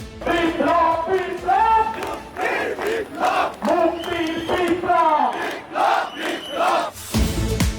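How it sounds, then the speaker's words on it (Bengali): A large crowd at a Hezbut Tawheed rally in Kushtia chants slogans in loud, rhythmic call-and-response bursts, many voices shouting together in repeated waves. "স্লোগানে স্লোগানে মুখরিত জনতা দলে দলে যোগ দিতে থাকে সম্মেলনে"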